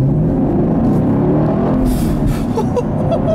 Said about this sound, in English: Another acceleration, because why not?